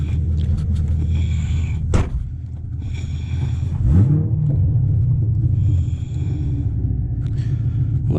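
A straight-piped, tuned 500 hp C7 Corvette drives with a steady, heavy exhaust rumble close by, broken by a sharp crack and a rising rev around a gear change, then settles back into a deep, droning cruise.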